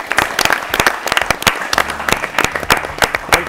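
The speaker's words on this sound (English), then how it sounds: "Let's clap for sir" An audience at a quiz event applauds a visiting director handing out prizes, with sharp individual claps standing out from a moderate crowd, loud and close, with brief low voices underneath.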